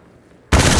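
Gunfire in Apex Legends erupts abruptly after a quiet half second, a loud, dense burst of rapid shots filling the rest of the moment.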